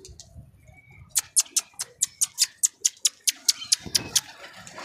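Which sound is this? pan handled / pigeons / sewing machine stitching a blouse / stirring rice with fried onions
pigeons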